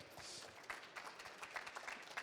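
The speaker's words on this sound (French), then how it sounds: "on peut les applaudir" Audience applause greeting sailors at a public IMOCA debate, a steady wash of many hands clapping in a hall, fairly faint and continuous with a few sharper individual claps standing out.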